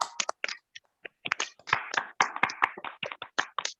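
Several people in an online prayer meeting clap to welcome a preacher, producing sparse, uneven claps and taps, some single and some in quick clusters, fairly close and quiet with short gaps of silence between.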